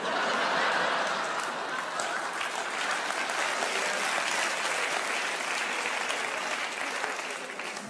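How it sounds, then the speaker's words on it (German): Sustained audience applause, dense and even throughout, with faint chuckles mixed into the clapping. "Applaus"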